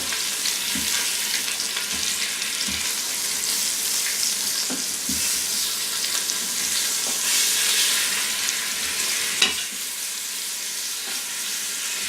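Short ribs brown in an Instant Pot with a steady, loud sizzle and crackle, broken by a few soft clicks and light stirring knocks, with no voice.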